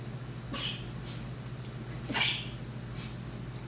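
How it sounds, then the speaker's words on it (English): Two sharp, breathy sneezes burst out over a steady low hum, each followed by a softer puff of breath, close to the listener. "I'm just sneezing"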